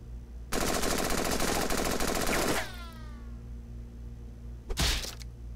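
Rapid rifle fire in the Henry Stickmin Collection game, a loud continuous burst of about two seconds ending in ringing metallic tails, then one more short blast a couple of seconds later.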